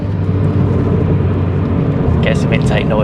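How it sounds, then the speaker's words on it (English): Engine and intake roar from a 240bhp Renault Clio RS under acceleration, a steady loud drone from inside the car with a voice talking over it near the end. "Get some intake noise as well."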